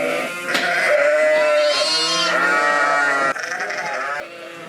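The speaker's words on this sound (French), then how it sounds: "c'est les brebis de pays, les brebis locales." Local-breed ewes bleat loudly and close by on a farm, several long wavering calls overlapping one after another with no talking.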